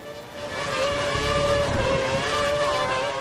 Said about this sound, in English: The engine note sounds absolutely horrific from the cars around me